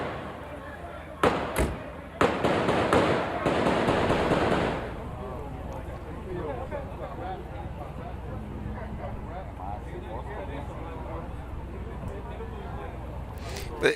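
Gunshots in a news recording of a shooting ring out in a dense, rapid burst that sounds like crackling fireworks, then fade out under steady talk. A couple of isolated sharp cracks come before and after.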